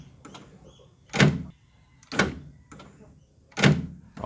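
Central locking door actuator motor in an Isuzu D-Max pickup door, on the bench after a motor replacement, cycling three times: short sharp thunks about a second apart, close and fairly loud, with quieter clicks in between and no talk.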